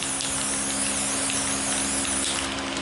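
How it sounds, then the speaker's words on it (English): A spray paint can hisses out paint in one steady, continuous burst with no talking, loud and close throughout. "I'm gonna spray the yellow in the middle."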